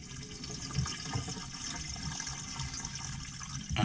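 Water is dumped into an RV drain trap, a steady gurgling pour with a splashy swell near the end, fairly quiet and close, with no voices.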